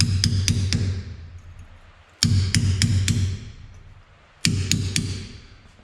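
Hammer smacks against the pinion flange of a GM AAM rear axle to seat the pinion seal: three bursts of three or four sharp, ringing metallic blows each, close and loud, with decaying ring between bursts.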